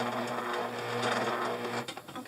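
A sewing machine stitches fabric for a dog bandana, giving a close, steady mechanical whir with a rapid needle rhythm. The whir runs continuously before slowing and stopping near the end.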